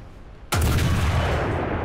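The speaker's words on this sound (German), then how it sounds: "Der war so geil, der Schuss." A single loud tank cannon shot from the FV4004 Conway in the video game War Thunder, a sudden sharp blast followed by a long rumbling boom that hangs on.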